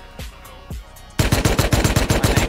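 Gunfire in the survival video game Rust: a couple of soft thuds, then a sudden loud automatic burst of rapid, evenly spaced shots that continues to the end.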